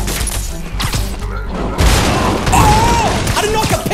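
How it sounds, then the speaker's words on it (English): Bomb explosions and impacts in the Marvel's Spider-Man video game, heavy booms and thuds over a busy mix of game effects, loud and continuous across the moment. "Throw the bomb at him."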